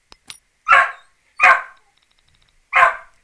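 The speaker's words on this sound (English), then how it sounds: "my dog was barking" A pet dog barks three times at home, spaced about a second apart, each bark sharp and loud nearby, with short quiet gaps between.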